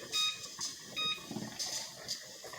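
A kitchen timer being set for pressure canning baked beans, a few faint, short electronic beeps spaced irregularly against quiet room background.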